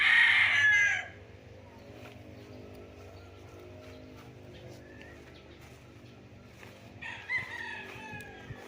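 A rooster crows loudly once at the start, then soft clucking and another distant crow follow over a quiet farmyard hum, at chicken coops on a farm in Nagcarlan, Laguna.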